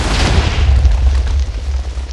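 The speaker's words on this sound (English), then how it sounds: "I'm still seeing explosions!" A TNT explosion in a video game gives a loud, broad rumbling blast with a heavy low end. It fills the whole clip and fades only slightly toward the end.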